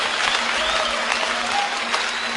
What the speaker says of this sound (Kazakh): Ағайын қолды соғып шулап отыр